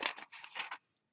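Scissors snip through a sheet of paper during card and journal page crafting, a few quick close cuts in a short burst, then silence.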